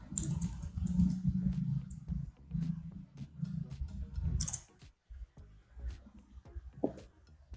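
Typing on a computer keyboard during spreadsheet entry, with soft irregular key clicks in short bursts, close and quiet, broken by brief pauses.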